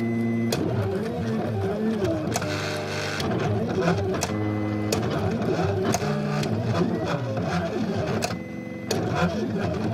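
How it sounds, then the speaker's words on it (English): A vinyl cutting machine works through a design, its motors whirring and shifting pitch in quick runs with periodic clicks, loud and close throughout. "the first thing I'm going to do is I'm going to cut that out of vinyl. So I'm sending that"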